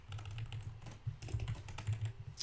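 Quick, uneven keystrokes clatter on a computer keyboard, close and fairly quiet, with short bursts of tapping and no voices.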